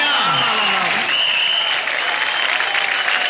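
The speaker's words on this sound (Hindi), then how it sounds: "तालियां," Audience applause at a comedy show, loud and continuous across the whole moment, with a voice briefly audible over it at the start.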